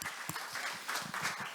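Audience applause after a presentation at a technical session on listing strategy, a short burst of scattered, fairly faint hand clapping.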